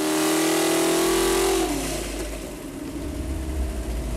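A Mopar 360 V8 on an engine dyno, fitted with new heads, intake and cam, revs hard to about 6,500 RPM in a loud sustained howl for over a second. The engine then drops off into a rumbling, lower idle.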